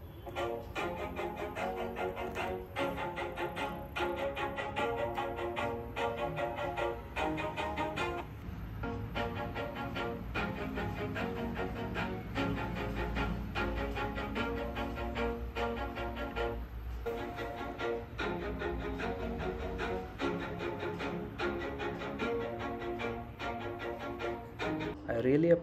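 Music plays through the built-in speakers of an M1 MacBook Air laptop, a full, steady mix with beat and melody running continuously at moderate level for the whole stretch.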